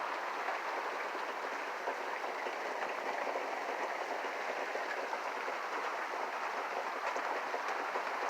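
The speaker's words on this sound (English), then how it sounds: "It's a lot of rain." Heavy rain pours steadily outdoors on Christmas Eve in Georgia, a dense, even hiss of countless drops with no pauses or voices, moderately loud throughout.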